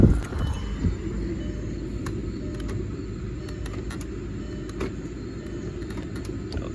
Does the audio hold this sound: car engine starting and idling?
yes